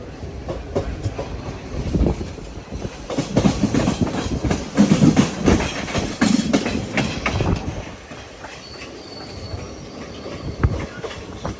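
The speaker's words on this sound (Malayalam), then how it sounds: "ഭുസവാലിലേക്ക് ഇത് നമ്മുടെ ട്രെയിൻ എത്തുകയാണ്" A train rolls into Bhusawal station with rumbling wheels and clattering carriages, brakes squealing briefly as it slows, then the noise eases to a steady hum.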